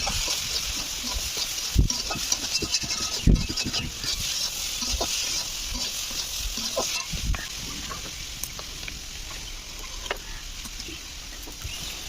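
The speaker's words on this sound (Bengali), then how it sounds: "নিয়ে পরিমাণ মতো হলুদ, স্বাদ মতো লঙ্কার গুঁড়ো আর স্বাদ মতো নুন দিয়ে দিলাম। দিয়ে আবার কিছুক্ষণ ভাজলাম।" Potato and eggplant pieces with turmeric, chilli powder and salt fry in a pan, giving a steady sizzle with scattered scraping knocks from stirring, close and without talk.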